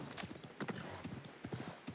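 Horse hooves clip-clop in a steady walking rhythm in the video game Assassin's Creed Mirage, close and fairly quiet, with faint game ambience behind.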